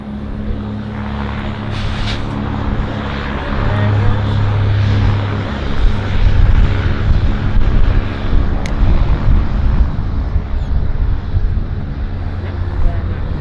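Airliner departing Vancouver Airport, heard from the cabin as a steady loud engine roar with broadband rush throughout, a low droning hum underneath, and no clear talk over it.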